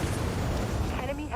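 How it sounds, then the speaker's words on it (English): A brief, dense roaring burst of a vulture missile launch from a warship in the game Dreadnought, full and close, lasting just over a second. "Launching vulture missiles."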